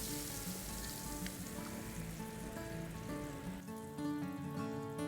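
A hot tempering of jeera and red chili sizzles steadily as it hits a pot of dal, a dense crackling hiss with no talk.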